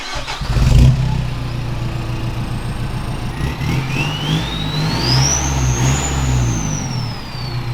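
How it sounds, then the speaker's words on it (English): A 4WD engine with a 3-inch straight-through exhaust, muffler and diff delete idles with a deep, throaty rumble, then revs steadily higher for several seconds, loud and close. "a 3-inch straight through exhaust with a diff delete"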